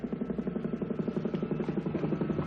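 A police helicopter flies overhead in a sitcom neighborhood scene, its rotor giving a steady, rapid thudding pulse at moderate distance with no talk over it.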